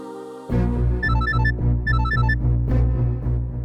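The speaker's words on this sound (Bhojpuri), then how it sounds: "फूल जी के फोन," A mobile phone ringtone rings loudly: a bright, melodic tune with repeating high chiming notes over a steady rhythmic backing, with no talking.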